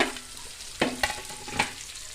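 Shallots sautéing in fried curry paste with ginger and garlic for a red snapper curry, a soft sizzle broken by a few sharp stirring scrapes and taps, close by.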